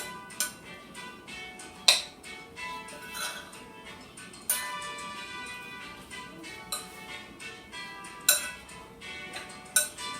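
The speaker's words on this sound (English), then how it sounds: "now that I put all the ingredients in the bowl, I'm just going to begin to mix it" Nopal salad ingredients with jalapeño and cilantro are tossed in a bowl, giving soft irregular clinks and taps of a utensil against the dish, fairly close and quiet.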